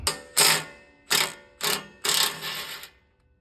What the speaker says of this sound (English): gonna go ahead and take these bolts out of this last bracket